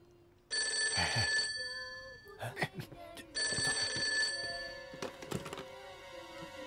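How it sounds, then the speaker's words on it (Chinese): An old-style telephone bell rings in two bursts of about one and a half seconds each, with thumps and clunks between and after them, heard at close range. "请秋元少佐接电话"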